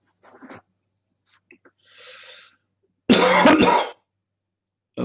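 A few short, close throat-clearing sounds, then one loud harsh cough, with quiet pauses between them, during a lecture.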